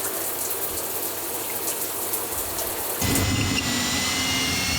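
Water gushing from a newly plumbed sink tap in a remote Alaskan homestead bathroom, a steady broadband rush that grows louder and fuller about three seconds in and keeps running to the end.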